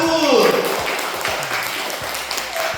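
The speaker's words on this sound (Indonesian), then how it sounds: "semuanya berikan tepuk tangan untuk kelompok 1" Applause breaks out for a student group that has just presented in a classroom, with a steady wash of clapping heard close by, mixed with some voices and chatter.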